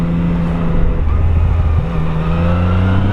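A Yamaha MT-09 or Kawasaki Z900 motorcycle accelerates hard on a test ride, engine pitch climbing then dropping abruptly at a quick-shifter upshift before rising again; loud, close, with steady wind rush.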